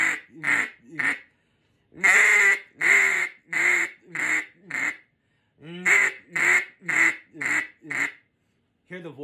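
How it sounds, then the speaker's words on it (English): A big-bore mallard duck call blown in a hen-on-the-water sequence, a rhythmic run of loud, raspy quacks in close groups of three and more, with short pauses between bursts. "But I'll do a hen on the water, which is a 1, 2, 3, hick, hick, hick."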